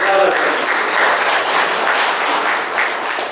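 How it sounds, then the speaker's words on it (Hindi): A crowd at a speech gathering breaks into loud, sustained applause, a dense wash of clapping that swells and holds throughout. "उसमें एक बार आप लोग जोरदार ताली बजा के अजय को"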